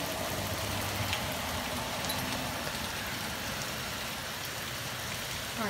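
Hail pours down steadily during a storm, a dense, even patter of ice striking surfaces that holds at a constant level throughout, with a faint low rumble underneath.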